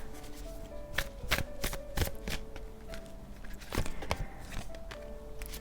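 Oracle cards for a tarot reading are shuffled close up as a run of crisp riffling and slapping bursts in an irregular rhythm, fairly quiet, with no talk.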